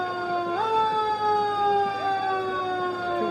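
Siren from Linda Fire's new fire engine at a Christmas parade in Olivehurst: a loud, continuous wail that rises sharply near the start, then holds and slowly slides, with no talking.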